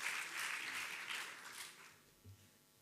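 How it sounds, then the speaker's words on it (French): Crowd applause for competitors at the West Web Festival, a short burst of clapping that fades out quickly into a quiet hall. "Allez, on les applaudit très très fort."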